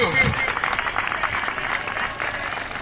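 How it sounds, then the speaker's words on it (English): Audience at an Ekpon Day community celebration breaking into steady applause, a dense wash of clapping from many hands, loud at the start and holding evenly, with a voice speaking over the opening moment. "A round of applause"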